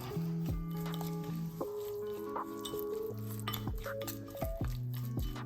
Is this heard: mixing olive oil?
yes